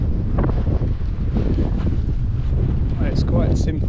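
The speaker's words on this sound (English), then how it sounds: "As you can hear, we've got a bit of wind action" Strong wind on a hilltop in the Lake District fells buffets the microphone in a steady low roar, with gusts rising and falling throughout.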